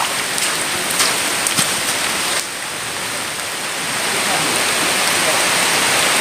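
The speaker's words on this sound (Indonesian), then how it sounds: "Hujan. Hujan pun tiba." Heavy rain pours steadily over a tree cabin beside a river, a dense, loud, continuous hiss of drops on surfaces with no voices.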